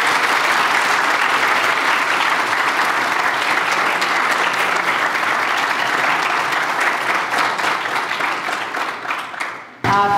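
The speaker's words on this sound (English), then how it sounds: "Another round of applause." A lecture audience gives loud, sustained applause, a thick continuous roar of clapping that begins to thin and fade near the end.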